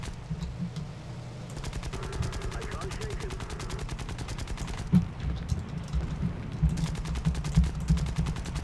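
Rapid machine-gun fire from a fighter plane in War Thunder, steady automatic bursts running nearly throughout over a low engine drone, with a brief pause and a sharper hit near the middle.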